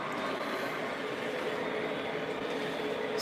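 Lionel MTH Big Boy T1 model train running, a steady, dense rumble and clatter that holds evenly from start to finish with no pauses and no voices.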